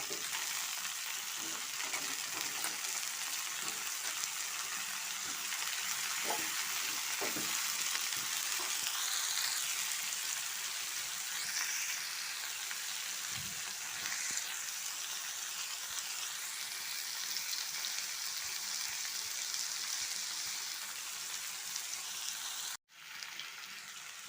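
Potatoes sautéing with spices in a pan give a long, steady, close sizzle with a few faint stirring clicks and scrapes, continuous throughout.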